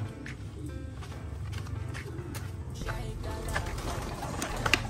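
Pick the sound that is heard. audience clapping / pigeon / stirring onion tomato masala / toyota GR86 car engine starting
pigeon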